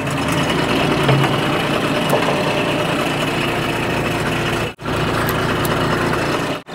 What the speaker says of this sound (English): I bet it fires up first time it turns over.